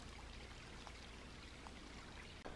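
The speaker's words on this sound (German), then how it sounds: "auch hier fließt wieder mittlerweile deutlich weniger Wasser" A forest stream in winter running with reduced flow, a steady, close wash of flowing water with no voices.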